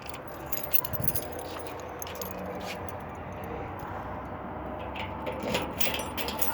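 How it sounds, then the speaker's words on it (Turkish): Keys jangling close by while someone picks up a bicycle key, a continuous metallic rustle and clinking over steady outdoor background noise, with no talking. "Bir de anahtarımızı alalım"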